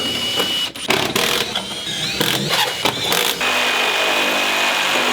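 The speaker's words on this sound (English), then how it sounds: "I am taking out the bolts from the bottom of these balusters." Bolts being backed out of the bottom of deck balusters with a power driver, several short whirring bursts with mechanical ratcheting in between, close up, followed by a steady hum.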